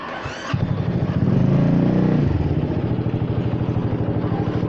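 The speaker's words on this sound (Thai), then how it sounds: "เดี๋ยวสตาร์ทรถไว้แป๊บหนึ่งนะครับ" Honda Forza 300 scooter engine cranking briefly, catching and settling into a fast, even idle putter close by, loud with no voices.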